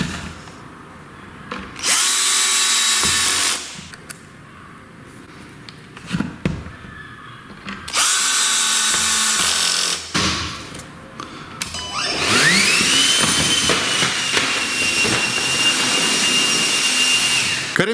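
A brushless 20V cordless leaf blower with variable speed runs in loud whooshing bursts of about two seconds, with quieter gaps between them, then holds a long sustained blast with a rising whine as the speed climbs.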